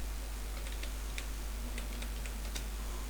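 Quiet computer-keyboard typing with a few scattered light key clicks over a steady low hum and hiss, close but faint, with no voice.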